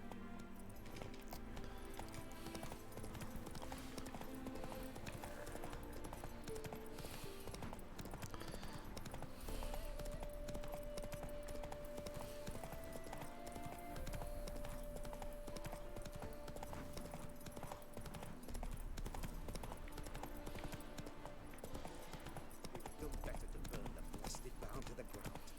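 Hoofbeats of Roach, a horse in The Witcher 3, clip-clop in a fast, steady gallop rhythm throughout, mixed with game music and occasional voices.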